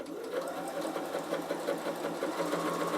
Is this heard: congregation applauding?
no